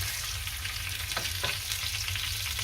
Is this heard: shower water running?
no